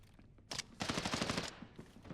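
A short rapid burst of automatic gunfire in Arena Breakout Infinite, preceded by a single shot, with fast repeated reports fading into a brief echoing tail.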